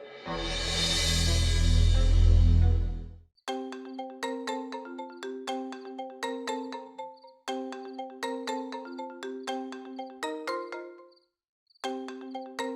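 A phone ringtone plays a repeating melodic chime pattern in several bursts with brief pauses, clear and close, after a short loud noisy burst at the start.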